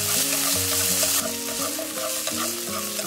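Chinese sausage, carrot and green beans stir-frying in a hot pan, a steady loud sizzle with scraping stirs and clattering spatula strokes throughout, close and without talk, over a background musical drone.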